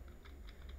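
A short run of soft, quick keyboard keystrokes on a computer, about four or five faint taps over a low steady hum, with no talking.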